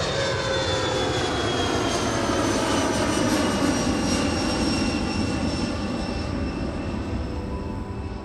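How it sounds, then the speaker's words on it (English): A plane taking off from Lexington Blue Grass Airport gives a loud, sustained engine roar with a shifting whine, steady and continuous throughout, with no voices. "The moment the last plane took off"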